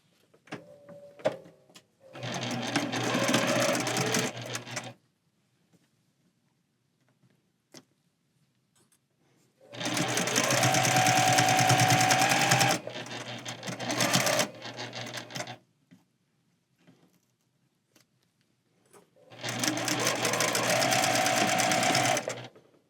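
A sewing machine stitching small pieced quilt block sections, three long steady whirring runs of stitching with quiet gaps and faint handling clicks between them.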